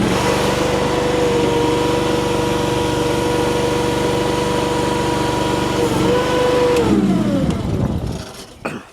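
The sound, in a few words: compact loader engine starting and running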